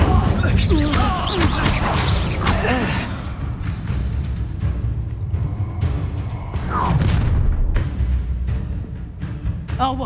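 A fire spell cast during a duel in the Hogwarts Legacy game bursts with crashing, whooshing booms amid loud battle noise, mixed with character voices speaking throughout.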